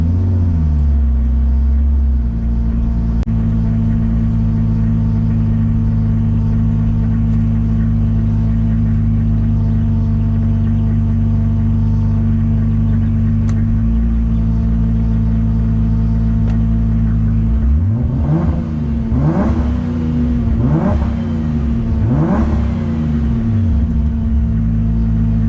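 A Toyota Supra with a full exhaust and drag tune idles with a deep, loud, steady rumble for a long stretch, then gives three quick, rising throttle revs close by.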